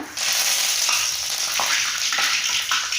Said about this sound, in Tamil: கடுகு நல்லா பொரிஞ்சு வரட்டும். கடுகு பொரிஞ்சதுமே கருவேப்பிலை சேர்த்திக்கலாம்.